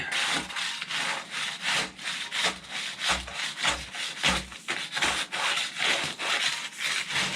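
A 4-inch auger fitted with a 2-inch pipe extension drills with a rhythmic, gritty scraping and rasping in repeated strokes, close and moderately loud, with no voices.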